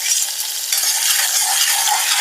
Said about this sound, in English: So just going to stir that until you get a vibrant smell of flavours of garlic